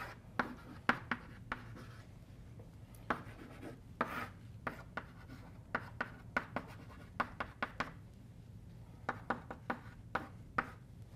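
Brisk writing strokes on a board during a physics lecture on effective field theory: a steady series of short, sharp taps and scrapes, close and fairly clear, with no voice over them.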